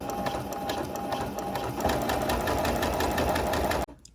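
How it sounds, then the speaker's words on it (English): Sewing machine running continuously while understitching the seam allowance on a winter cape, a steady fast mechanical whir and rattle, close and loud, that stops abruptly at the end. "I'm also understitching the seam allowance toward the left, pressing that, and then creating a stitch line just at the edge"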